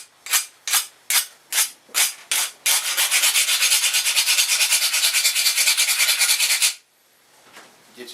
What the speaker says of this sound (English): Just get you some kind of rasp or something.